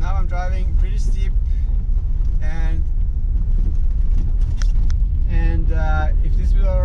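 A car with winter tires climbs a steep hill on packed snow near freezing, its engine and road noise a steady rumble with wind under ongoing talk.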